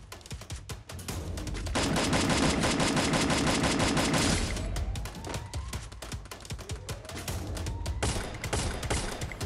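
Gunfire from a sniper rifle in the video game Free Fire, part of a dense, loud stretch of rapid repeated shots with sharp transients throughout, with no talking.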